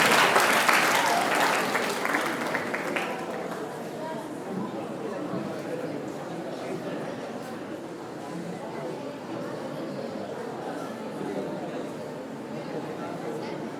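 Applause welcoming a guest at a chess tournament in Kalleda, a burst of clapping and crowd chatter that is loudest at first and then fades to a steadier, softer hum.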